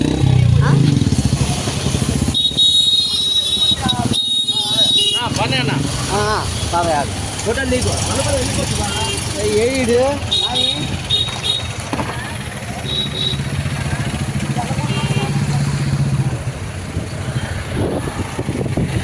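Heavy road traffic jam with motorcycles, steady engine idling and revving close by, broken by short horn toots, while someone talks continuously over it.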